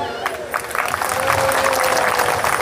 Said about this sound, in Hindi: बिटिया ने ताली बजा दो।